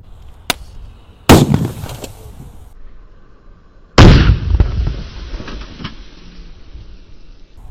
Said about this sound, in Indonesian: eksperimen menyalakan banyak sekali mercon di dalam teko